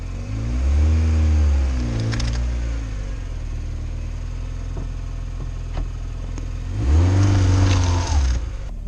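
A classic car's engine runs in bursts, swelling loudly near the start and again toward the end with a steadier, quieter rumble between, as the car is eased forward in a garage.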